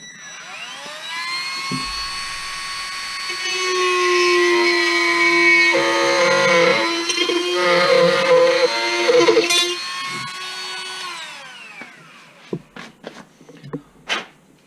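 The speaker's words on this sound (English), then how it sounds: "So let's go ahead and we'll go and grind this out as well." A power grinder cuts away a plastic clip on a Bruder John Deere 9620RX toy tractor, a loud high whine that holds for several seconds with shifting pitch as it bites, then stops, followed by a few light clicks and taps.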